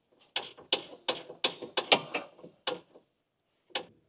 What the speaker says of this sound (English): Using a medium 16 mm short socket, together with a medium ratchet,